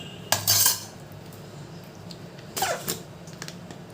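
Fish being mixed with a teaspoon of salt in a metal vessel, two short clattering bursts of utensil scraping against the pot separated by a quiet pause, close and fairly loud, no talking.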